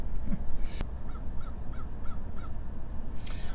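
A crow caws outdoors in a quick series of about six harsh calls at a moderate distance, heard over steady background noise.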